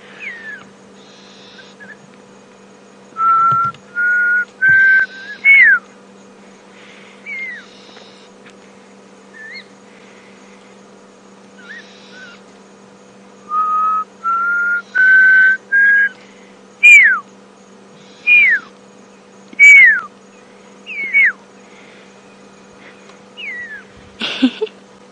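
A wild bird in the African bush whistles a series of clear, rising notes imitating an owlet, repeated in short bursts of two to four calls separated by pauses, fairly close and loud against a steady low hum.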